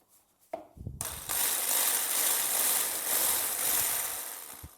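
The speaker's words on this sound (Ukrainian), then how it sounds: "Охолоджені вершки виливаємо і починаємо збивати їх." Chilled cream being whipped with an electric mixer in a home kitchen, a steady, fairly loud whirring hum that starts after a brief clatter and runs on without talk.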